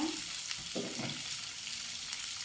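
A spice paste for rawon, the Indonesian black beef soup, is sautéed in a hot pan. A close, continuous frying sizzle runs throughout, with occasional stirring scrapes and no voices.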